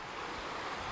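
Water in a creek flowing right beside a cabin, a steady broadband rush that holds at an even level and sounds close, with no voices.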